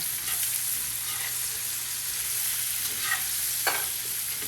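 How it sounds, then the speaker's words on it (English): Vesuvio potatoes frying in a skillet with rosemary and lemon zest, stirred through the hot oil; a steady close sizzle with a few soft scraping strokes of the spoon, no talking. "And a good stir for everyone."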